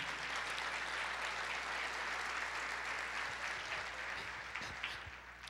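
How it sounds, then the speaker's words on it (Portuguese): A church congregation applauds in a continuous, soft wash of clapping that sounds distant and faint over a low steady hum, tapering slightly near the end. "Pode aplaudir ao Senhor."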